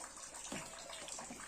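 Water pours into a small pool in a steady, quiet gushing flow, faint and unbroken.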